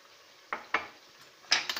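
Metal spoon knocks and scrapes inside a pot while flour and water are stirred together for beef nihari, a few sharp close clinks spaced apart with a quick cluster near the end, no talking.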